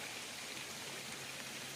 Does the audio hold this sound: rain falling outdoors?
yes